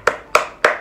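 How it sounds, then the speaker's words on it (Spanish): Three sharp, evenly spaced hand claps ring out close by in quick succession. "¡Aplausos!"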